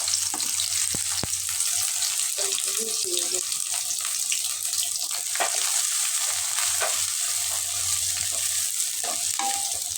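Rohu fish fries and sizzles in a pan while spinach and spices are being cooked into a khatta, a steady hiss with stirring scrapes and clinks over it and occasional quiet talk.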